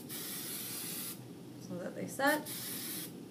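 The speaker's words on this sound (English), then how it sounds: "once the curls are done, give them another spray." Aerosol hairspray hisses in steady bursts onto freshly curled hair, close and prominent, pausing briefly while someone speaks, then resuming.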